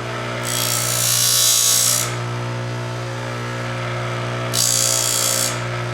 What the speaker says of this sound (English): she's going to sand it